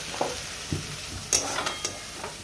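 Malabar spinach stems frying slowly in a pan give a soft, steady sizzle, punctuated by a few light stirring scrapes and clinks, close and quiet with no talk.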